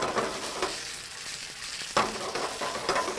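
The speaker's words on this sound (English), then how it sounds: "Now that everything's hot, crackling, sizzling, sauteing, what I'm going to do is I'm going to add a little bit of butter." Herbed Parisian gnocchi sizzling and crackling in butter in a hot pan, a steady bright frying hiss with occasional louder stirring scrapes, close and continuous with no talking.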